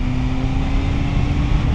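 A 2026 BMW M1000XR motorcycle with an Aprilia slip-on exhaust drones close and loud, holding a steady engine hum with no speech.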